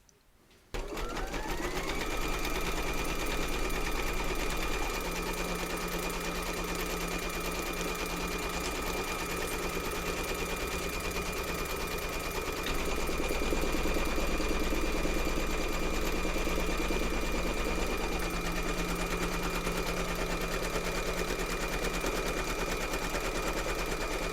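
A sewing machine quilts a Christmas table runner with clear monofilament thread, running steadily and loudly at constant speed for the whole stretch, a continuous motor whine with a rapid needle rhythm.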